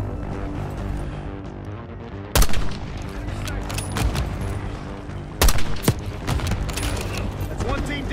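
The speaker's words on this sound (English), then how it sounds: "Got mortar fire!" Heavy gunfire and mortar blasts fill a Call of Duty Black Ops 6 campaign battle. Continuous rattling shots run throughout, sharp loud booms land twice, and shouted voices come through the din.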